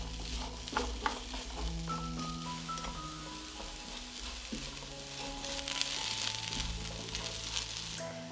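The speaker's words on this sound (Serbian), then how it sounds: "Na zagrejano ulje spuštam krompir" Potatoes frying in heated olive oil in a pan, giving a steady dense sizzle that runs unbroken from start to finish and stays close and fairly loud, with no voices over it.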